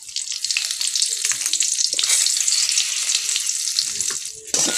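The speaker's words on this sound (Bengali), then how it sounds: "কড়াতে খানিকটা তেল দিয়ে দিচ্ছি, দুটো শুকনো লঙ্কা ছেড়ে দেব, কয়েকটা তেজপাতা দেব" Dried red chillies and bay leaves fry in hot oil in a wok, giving a loud, continuous crackling sizzle with a few sharper pops near the end.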